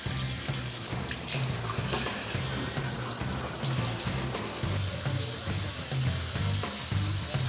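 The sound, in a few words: shower head spraying water onto a wall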